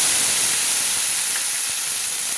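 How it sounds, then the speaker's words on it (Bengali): Spices, green chillies and ginger paste sizzle steadily in hot oil in a pan for vegetable khichuri, a continuous close, loud frying hiss with no talk. "আমি ভালো করে মশলাটা কষিয়ে নিচ্ছি, তেলের মধ্যে কষিয়ে নিচ্ছি"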